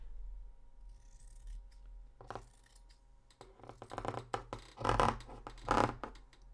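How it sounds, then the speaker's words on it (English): Scissors set down on a table during cosplay shirt pattern work, a cluster of sharp metallic clatters and knocks, the loudest near the end, close up over faint background hum with no voices. "that makes so much noise when you put the scissors down"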